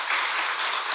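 An audience at a church gathering applauds steadily, a dense, even wash of many hands clapping that holds at the same level throughout.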